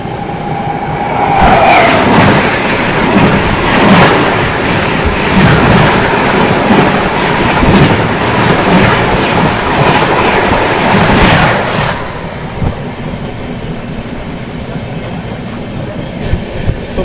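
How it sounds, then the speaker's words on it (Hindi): Lucknow Swarna Shatabdi express train passing close by, with a loud rushing roar and rhythmic clatter of wheels over rail joints that drops away abruptly, leaving a quieter rumble. "ये सामने से आ रही है लखनऊ स्वर्ण शताब्दी"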